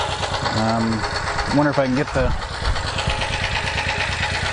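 A small generator engine runs continuously, its rough, knocking idle shifting in speed as the throttle is adjusted, with someone speaking briefly over it.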